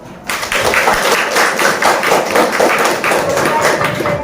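Classroom applause after a student presentation, a steady dense patter of many hands clapping throughout, fairly close and loud, with no voices over it.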